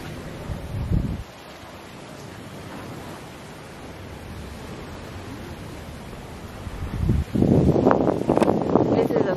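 Ocean surf at a resort beach in Runaway Bay washes in a soft, steady roar mixed with wind, swelling louder in the final seconds, with a voice talking briefly at the start and again later.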